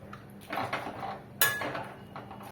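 Pumpkin greens with pea lentils being stirred in a pan, with two bursts of spoon scraping and clinking against the metal and a sharper knock midway.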